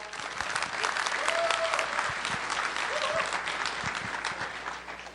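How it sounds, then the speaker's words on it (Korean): Sustained audience applause greets a keynote speaker at a tech conference, a dense even wash of clapping that swells slightly midway and holds for several seconds, with faint voices beneath. "큰 박수로 맞아주시기 바랍니다"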